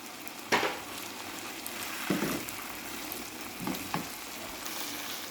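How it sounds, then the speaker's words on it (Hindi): Garlic, ginger and long-cut green chilies sizzle in a pan for a chicken Afghani karahi, with a steady frying hiss broken by a few sharp stirring scrapes, close and unaccompanied by talk. "अब हम इसको अच्छी तरह भून लेंगे।"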